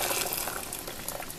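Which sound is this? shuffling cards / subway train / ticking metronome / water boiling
water boiling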